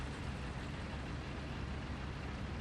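Tiger H1 tank engine starting in the game IL-2 Tank Crew, a steady dense broadband rumble with no clear onset, moderately loud and continuous throughout.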